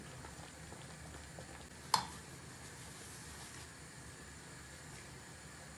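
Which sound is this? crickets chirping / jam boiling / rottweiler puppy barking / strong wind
jam boiling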